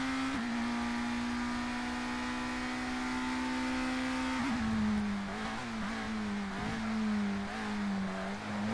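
Racing car engines from the ToCA Race Driver video game hold a steady buzzing drone that shifts pitch and wavers in the second half as the cars corner, loud and continuous with no talk.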